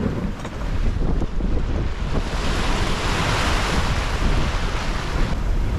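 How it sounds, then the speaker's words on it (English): Strong Icelandic wind and waves at sea on a sailboat, a loud continuous roar of gusts buffeting the microphone over rushing water, steady throughout. "The wind just seemed to cut off and change its direction and turn on again from another direction."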